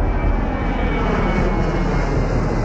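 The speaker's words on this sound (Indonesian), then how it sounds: "pesawat-pesawat Skyhawk mengadakan flypass atau formasi terbang bersama pesawat TNI yang baru" Skyhawk jet aircraft of the Indonesian Air Force fly past in formation alongside newer F-5E Tiger II jets, making a loud, steady, broadband engine roar that holds constant throughout.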